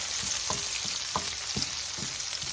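Chicken and seasoning sizzle loudly in a hot pan for chicken cacciatore, a steady dense frying hiss with soft rhythmic stirring scrapes every half second or so, close up and without talking.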